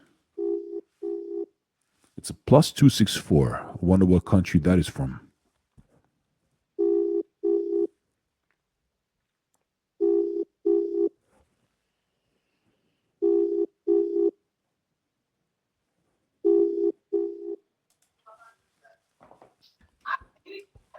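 An outgoing phone call rings back with repeated double-pulse tones: five clear rings separated by silent gaps. Someone speaks briefly between the first and second rings.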